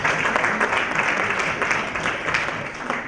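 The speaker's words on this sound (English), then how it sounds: "A big round of applause on that." An audience at a political conference session applauds, a dense, even burst of clapping filling the whole stretch at moderate loudness with no talk over it.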